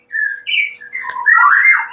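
A white-rumped shama (murai batu) calls in a series of clear, close whistled and squawky phrases, rising into a louder rich burst at the end, with no talk over it.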